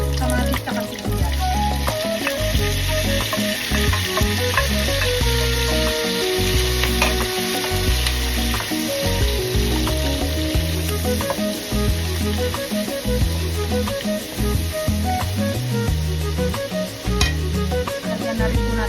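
Garlic, tomato and onion sizzle and fry steadily in a pan for ginisang upo with pork and dried shrimp, with loud continuous crackling and frequent stirring scrapes throughout, no talk.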